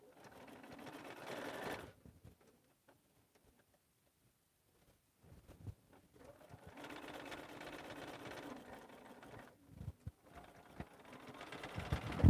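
A sewing machine stitches a lined stocking in short close bursts, a quick run at first, then a long steady whir after a quiet pause, with light handling clicks between.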